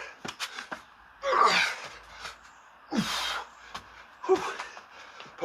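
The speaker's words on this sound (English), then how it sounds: "Apologies about the heavy breathing." Heavy, effortful breathing from someone exercising through a boxing fitness workout, with loud gasping bursts every second or two, close to the microphone and without talk.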